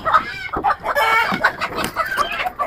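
Country cross chickens on a rooftop poultry farm cluck busily and loudly, with a rooster crowing partway through, several birds overlapping close by in steady, continuous calls.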